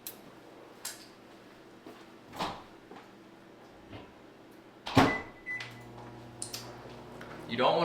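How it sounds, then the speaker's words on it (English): Reheating cream of rice in a kitchen microwave: door clunks and thumps, a short electronic beep, then a low steady hum as the oven runs. Faint background noise sits underneath. "so I'm going to put it back in the microwave"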